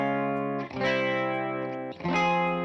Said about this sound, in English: Let's try just a little reverb on this.